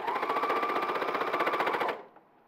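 An overlocker stitches fabric in a fast, loud mechanical rattle with a steady hum, running close for about two seconds before stopping abruptly, followed by a faint click.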